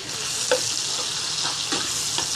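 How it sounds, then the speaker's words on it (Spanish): Shrimp sauté in a pan with a little oil, a continuous bright hiss of frying with a few soft stirring knocks, close and alone without talk. "Vamos a poner los camarones. Perdón, a sofreír los camarones a sofreír."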